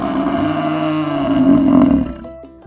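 A buffalo bellows in a single long, loud, close roar that fades out near the end, heard alone.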